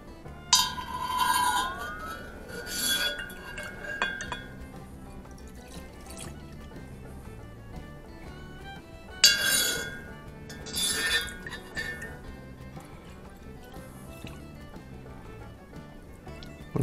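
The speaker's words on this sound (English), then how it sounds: "I'm just going to put it into a glass here" Homemade cherry vanilla mead is poured into a glass during backsweetening, with a few clear glass clinks and light liquid trickles spaced across a quiet, close indoor setting; no one talks.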